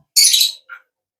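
A parrot gives one loud, harsh squawk up close, followed by a short softer squeak, then quiet.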